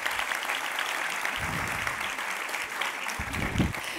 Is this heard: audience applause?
yes